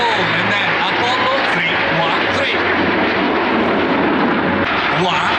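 Aerobatic formation aircraft at an air show roar loudly overhead in a continuous engine rush, while a commentator talks over the PA.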